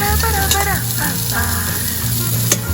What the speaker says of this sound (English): Let those jalapenos cook for a while.